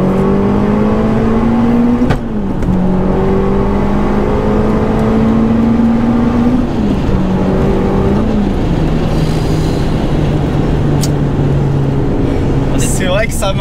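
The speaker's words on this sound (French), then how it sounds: "On va faire aussi une reprise en 3 pour voir le couple." A car pulls hard in third gear, its engine tone climbing steadily with brief dips at each lift, loud and close from inside the cabin, with occasional talk over it.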